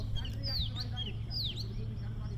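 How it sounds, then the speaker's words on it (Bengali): A hungry pet parakeet gives repeated sharp whistling calls close by, several rising and falling squawks over a low steady background hum. "ওর খাবার নেই এই জন্য ও ডাকতেছে মনে হয় ক্ষুদায়"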